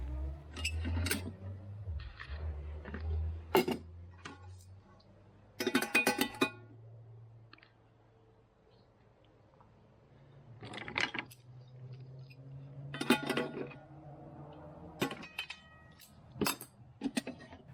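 Metal wind guard of a spirit-burner camping stove in a GP14 dinghy galley box, its three flip-out pan feet clinking and clicking in short bursts of sharp metallic taps separated by quiet pauses, close and alone.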